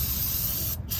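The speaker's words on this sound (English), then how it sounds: "At least try to spray some of that oil." Oil sprays during a car oil change, a short, steady hiss lasting about a second that dips briefly near the end.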